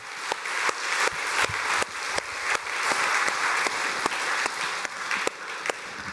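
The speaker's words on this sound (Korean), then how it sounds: "우리 2층 3층 크게 한번 박수하도록 하겠습니다." A church congregation applauds loudly during a Sunday worship service, a sustained roar of clapping from a large hall with sharp percussive bursts punctuating it throughout.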